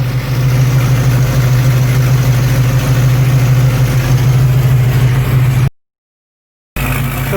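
The engine of a 1936 Buick with an overheating problem idles loudly and steadily in close range, with a deep even rumble, then cuts off abruptly for about a second before the running sound returns.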